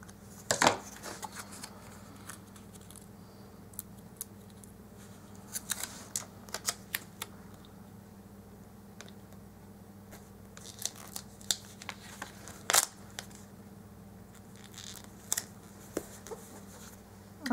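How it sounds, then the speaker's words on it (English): Scissors trimming paper in a planner, quiet scattered snips and paper crinkles over a low steady room hum. "I see, I need to trim that."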